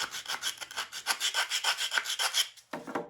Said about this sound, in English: I find it really helpful to use the edge of my sanding block.